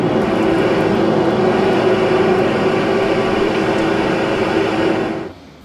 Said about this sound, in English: stick the leaf blower in and give it a shot